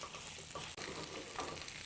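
A kimchi pancake fries in an oiled pan, giving a steady, dense sizzle with a brief dip as it is flipped, heard alone and fairly quiet.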